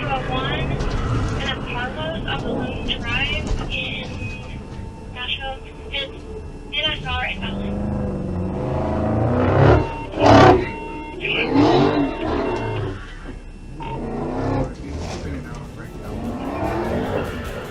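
Silver 2021 Dodge Challenger on the street, engine revving loudly and tires squealing as it speeds off and spins donuts, with sharp surges, under steady talk throughout.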